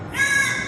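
A crow gives a single drawn-out, nasal caw, close and clear with no talk over it.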